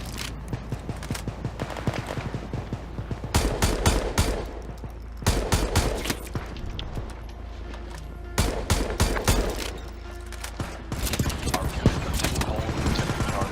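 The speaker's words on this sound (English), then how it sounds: "MG5. One of those shots hit me for 45." Rapid bursts of MG5 machine gun fire in the video game World War 3, loud and near, coming in several long volleys with short gaps between them over a steady battle background.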